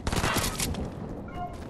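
Gunfire in a video game, a quick burst of several shots near the start followed by a fading rumble over a couple of seconds.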